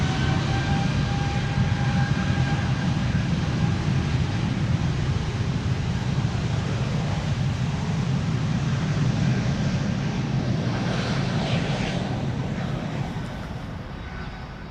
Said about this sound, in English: I think this also makes a nice last airplane of today